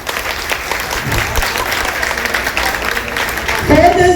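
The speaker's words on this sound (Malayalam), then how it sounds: "അപ്പൊ നല്ലൊരു കൈയടിയാവട്ടെ." Audience applause at an Onam celebration held by a Malayalee federation in Maharashtra, with a steady clapping crowd and a voice speaking over it, swelling louder toward the end.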